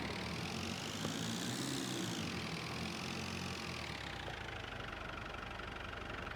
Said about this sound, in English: I don't mind the idling sound